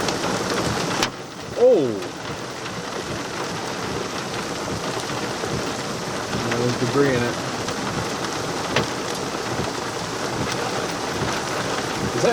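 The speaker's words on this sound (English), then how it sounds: "Is that hail still hitting us?" Hail and rain pelt a vehicle during a severe thunderstorm with quarter-size hail and strong winds near Chino. A dense, steady patter drums on the car throughout while occupants talk briefly.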